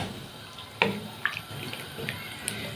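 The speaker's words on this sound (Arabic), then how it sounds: "هننزل بالشوربه بتاعتنا اهو" Hot broth is poured into sautéed yellow lentils in a pot, giving a few short splashes and liquid trickles over quiet background noise.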